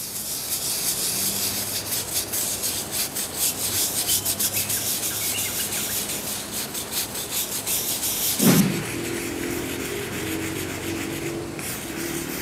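A brush scrubs rust off a swimming pool surface with soap, giving a long, steady, fairly loud rasping rub, then a sharp knock and quieter continued scrubbing.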